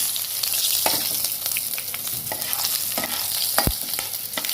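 Spices, chorchori, methi and green chili fry in hot oil over a lowered flame for a Bengali fish head dish, giving a steady close sizzle broken by scraping stirs.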